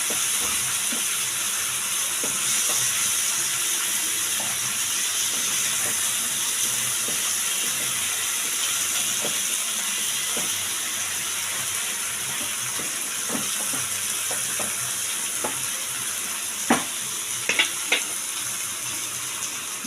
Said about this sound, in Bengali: মাছটা আবার উলট পালট করে দেবো